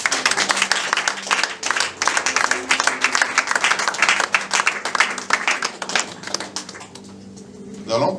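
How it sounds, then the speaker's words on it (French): Loud, dense applause from a church congregation praising the Lord, rapid sharp claps filling most of the stretch before thinning out near the end, with voices mixed in. "Acclamons très fort le Seigneur"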